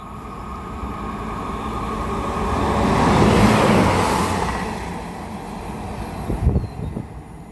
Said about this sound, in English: It's going to be a Great Western Class 165 from Oxford carriage sidings to Reading train care depot